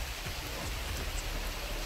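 Steady, dense rainfall hissing across the whole clip, a continuous wash of drops with low rumbling underneath and no voices.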